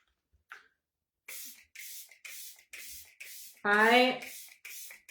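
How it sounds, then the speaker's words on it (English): Makeup setting spray misted in a quick series of about eight short, close, hissing spritzes, one after another, with a voice exclaiming briefly partway through. "let's go in with our setting spray"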